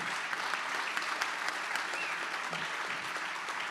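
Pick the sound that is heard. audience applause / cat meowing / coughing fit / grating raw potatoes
audience applause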